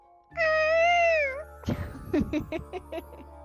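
A voice imitates a peacock call with one long, drawn-out nasal wail, followed by a short stretch of quick, choppy vocal sounds.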